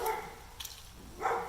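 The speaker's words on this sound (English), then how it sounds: "So many dogs." A dog gives a couple of short barks, one at the start and one near the end, with a faint yip between, fairly close in a quiet room.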